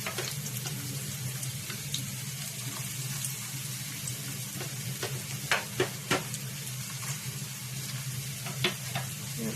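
Homemade pizza sauce frying gently in a pan with garlic, a soft continuous sizzle with occasional sharp clicks and stirring taps, close and fairly quiet.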